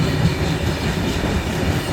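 A moving passenger train running late through Bihar in the morning, with a steady close rumble and faint clickety-clack of wheels on rails throughout and no voices.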